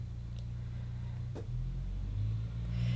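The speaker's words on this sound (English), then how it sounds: "Can you guys hear that truck outside?" A truck passes outside a house as a steady low rumble with rising engine tones, constant and moderately loud throughout, with a brief faint click near the middle.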